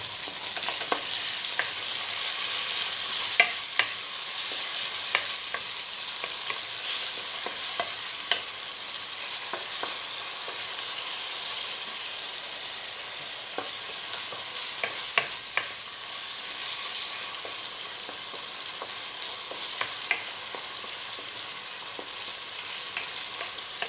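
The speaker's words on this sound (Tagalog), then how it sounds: "pwede na ilagay yung ating kamatis. Sabay ko na rin yung bawang." Tomatoes and garlic fry in a pan for a sardine and egg dish, giving a long, even sizzle with occasional sharp clicks of a spatula against the pan.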